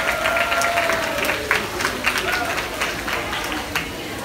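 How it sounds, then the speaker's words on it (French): An audience at a Franco-Ontarian day gathering in Hamilton applauds, a steady wash of clapping from the crowd with a few sharper claps standing out, while a voice is heard underneath. "applaudissez bien fort avec moi"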